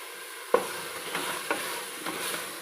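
Carrot, beans, capsicum and potato with mint frying in a pan for veg pulao, stirred with a spoon: a few distinct scraping knocks over a soft, steady sizzle, close and quiet.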